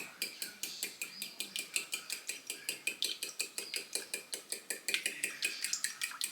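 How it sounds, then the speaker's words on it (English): Cracked eggs stirred in a small bowl, a quiet, quick and very regular series of light clinks and taps, several per second, keeping an even rhythm from start to finish. "I'm just going to kind of break the yolks up and stir them up a little bit"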